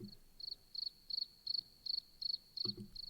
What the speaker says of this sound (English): So you have these crickets,